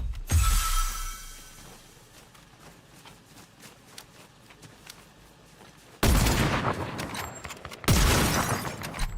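Gunshot headshot sound effects: a sharp loud crack at the start, then a scatter of small ticks and clicks, followed by two more heavy bursting blasts, each ringing out with a long decaying tail.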